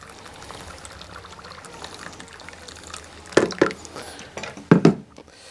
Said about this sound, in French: je vais ajouter mon eau chaude